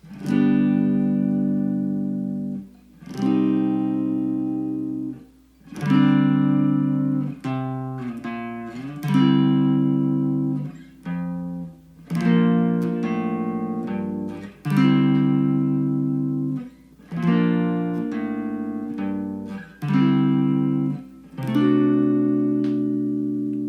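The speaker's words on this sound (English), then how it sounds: "So that chord progression is going to sound like this." Electric guitar strums a chord progression, each chord ringing out a couple of seconds before the next, with brief picked passages linking some changes.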